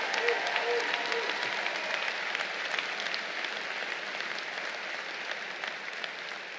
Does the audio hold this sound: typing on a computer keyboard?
no